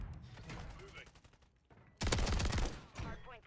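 Shotgun fire in Call of Duty Modern Warfare III using a max-damage Haymaker build: a loud burst of booming blasts erupts midway, followed by another shot, with quieter game noise before.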